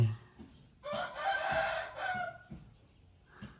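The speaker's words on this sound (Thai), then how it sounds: "โอ้เสียงไก่อะไรมาคันตรงนี้" A rooster crows once, loud and fairly close, a drawn-out cock-a-doodle-doo rising and falling over about a second and a half, with faint clucking around it.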